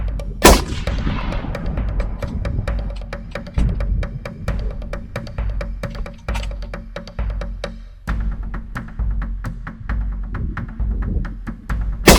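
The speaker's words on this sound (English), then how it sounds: "Baboon down. Took me, I think, 2 shots." Rifle shots fired while hunting baboons outdoors, several loud sharp cracks spaced irregularly, each followed by a rolling echo and a thumping low tail.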